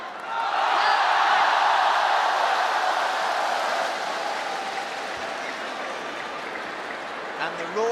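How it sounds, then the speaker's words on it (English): A huge crowd roars and applauds at the World Team Table Tennis Championships 2016 final, China versus Japan, in Liu Shiwen versus Ai Fukuhara, a loud sustained wall of cheering that swells early and stays dense throughout. "the roar from the crowd after the first point's like a roar at the end of the final"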